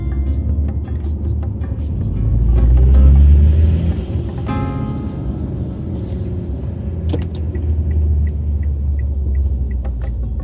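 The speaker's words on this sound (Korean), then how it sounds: "차가 오늘 막히긴 하는구나" Cars crawl through slow road traffic near the Pobangteo market in Korea, with a continuous close engine rumble that swells and eases as vehicles pass, plus occasional clicks and faint rattles.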